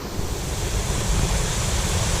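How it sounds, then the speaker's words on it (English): A hidden waterfall on a St. Lucia hiking trail gives a broad, steady rushing roar that fills the whole clip, close and loud with no break. "Waterfall."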